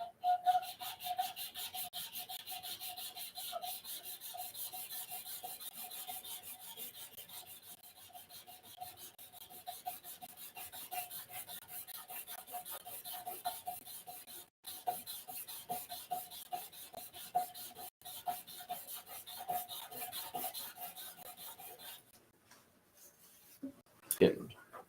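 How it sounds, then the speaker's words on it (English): Old, worn sandpaper rubbing on briar wood in a steady, continuous rasping scrape that runs for a long stretch with brief pauses, close but fairly quiet. "Getting some worn out sandpaper. This stuff's old sandpaper."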